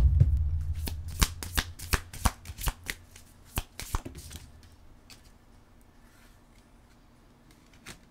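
Oracle cards being shuffled for a card reading, a run of crisp riffling slaps and flicks, loud and close at first and then tapering off into quieter rustling.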